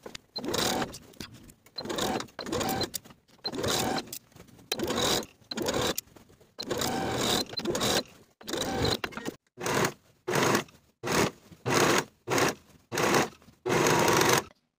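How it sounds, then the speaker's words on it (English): Sewing machine stitching a blouse sleeve in place around the armhole with a 5/8 inch seam allowance, running in repeated loud bursts separated by short pauses, close up and without speech. "Sew the sleeve in place all the way around with a 5/8 inch seam allowance"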